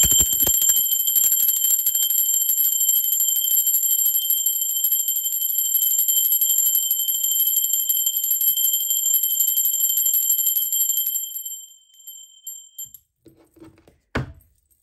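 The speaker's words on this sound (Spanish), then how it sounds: "¡Va campana!" A bell rings continuously with a bright, sustained metallic tone for about eleven seconds, then cuts off, leaving a few faint knocks and a soft thump.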